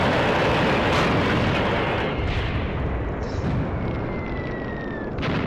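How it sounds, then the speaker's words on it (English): Heavy artillery fire in the wartime tactics game Graviteam Tactics rumbles as a dense, continuous barrage of booms, loud and sustained, with a thin whistling streak fading through the middle. "That's some of the artillery I put in to support the move towards this junction in the road."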